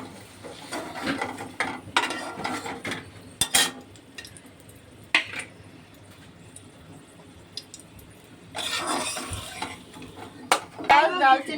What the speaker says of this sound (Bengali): আলুগুলো ভাজা হয়ে গেছে, একা একা তুলে নেব।